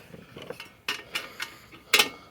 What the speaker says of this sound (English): and then connect my socket wrench to it